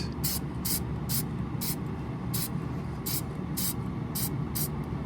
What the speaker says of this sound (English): Just kind of misting it lightly, just a little bit.